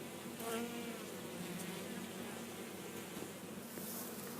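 Honey bees at an open summer hive give a soft, continuous hum, with individual insects droning close past now and then over the steady swarm drone.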